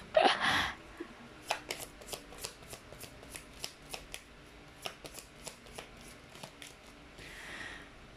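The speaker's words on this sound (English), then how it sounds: "I'm just pulling up some of my cards here. It got mixed up." Tarot cards being shuffled and handled close up, a quiet run of crisp, evenly spaced riffling snaps and flicks, about a dozen in quick succession, with a soft rustle at the start.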